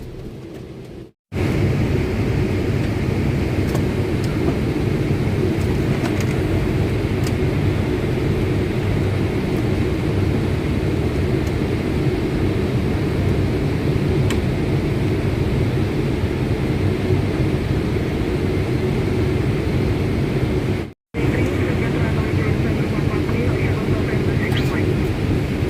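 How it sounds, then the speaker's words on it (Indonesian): Boeing 777-300ER airliner coming in to land, a loud steady roar of engine and cabin noise held throughout, cut by two brief gaps. "yang sekarang kita saksikan di latar belakang pesawat yang akan mendarat ini"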